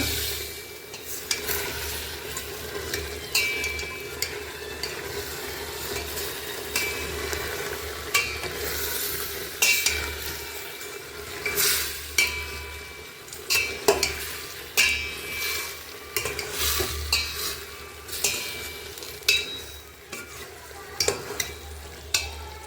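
Biryani frying and being stirred in a pot, with a continuous sizzle and repeated scraping and clanking of a spoon against the metal, growing busier and louder toward the end.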